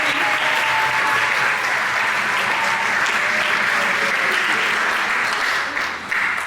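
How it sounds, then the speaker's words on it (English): Steady, dense applause from a concert audience at a music camp, continuous and fairly loud throughout with no gaps. "Please, a huge round of applause."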